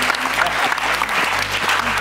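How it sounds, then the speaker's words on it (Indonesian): An audience claps during a youth parliament event, a dense, even burst of applause lasting a couple of seconds with faint voices mixed in. "Tepuk tangan untuk Kak Bima dong."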